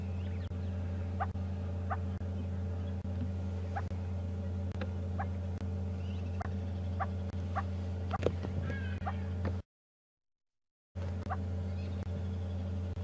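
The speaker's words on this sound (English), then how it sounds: "That squirrel's still alarming much better down below us." A squirrel gives repeated sharp alarm chirps in the bush during a morning safari drive at Djuma Game Reserve. The calls come at a steady rhythm and carry over a constant low vehicle engine hum.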